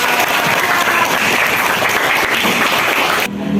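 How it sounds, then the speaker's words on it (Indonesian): Loud, dense applause from a school audience at a junior high school in Indonesia, clapping steadily and filling the space before cutting off abruptly near the end. "Hore, tepuk tangan!"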